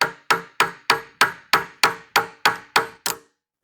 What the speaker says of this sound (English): Probably should have grabbed a bigger hammer.